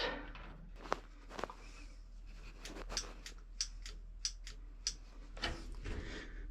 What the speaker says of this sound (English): I hear the switch clicking.